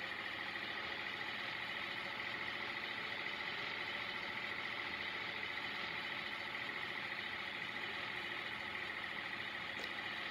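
Steady truck engine hum from a truck simulator video game, accelerating with a constant, even drone at moderate level throughout, with no talk over it.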